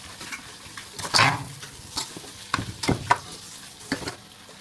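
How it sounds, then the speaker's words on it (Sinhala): Spoon stirring sauce into Mongolian fried rice in a hot pan, with scattered scrapes and clanks over a soft sizzle, close and moderately loud. "ඊට පස්සේ අපි මේ විදිහට අර කලින් හදාගත්ත අපේ සෝස් එක මේකට දාලා හොඳට කලවම් කරගන්න ඕනේ."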